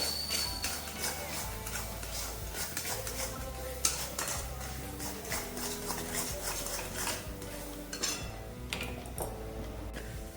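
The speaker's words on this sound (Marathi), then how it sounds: "इथे मी खवामध्ये साखर टाकली छान असं परतवून घेते" A spoon stirring and scraping khoa with sugar in a metal pan, repeated clinks and scrapes in an uneven rhythm, close and clear over a quiet kitchen background.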